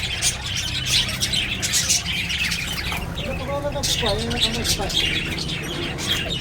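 Birds chirp and twitter in short bursts against a steady outdoor hiss, with people talking faintly in the background.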